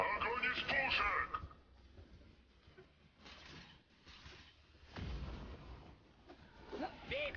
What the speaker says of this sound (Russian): Огонь из пушек!